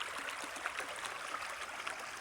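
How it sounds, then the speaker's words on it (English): Turkey Creek, a tributary feeding Aravaipa Creek in the Aravaipa Canyon area, flows in a steady, close rushing murmur with a soft continuous gurgle and no voices. "This creek actually feeds Aravaipa Creek."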